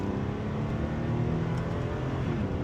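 Infiniti G37 engine pulling hard under acceleration, a steady loud drone heard from the driver's seat with brief dips as gears shift, no talking over it.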